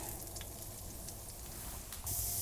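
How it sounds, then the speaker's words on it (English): Morels frying in a mix of butter and olive oil, a faint, steady hiss of sizzling fat with a few soft pops, heard alone and close, swelling slightly louder at the end. "Time to put in our morels."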